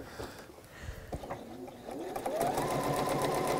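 A sewing machine stitching a quilt while the operator stands, starting with a few scattered mechanical clicks before settling into a steady, close, continuous whirring hum.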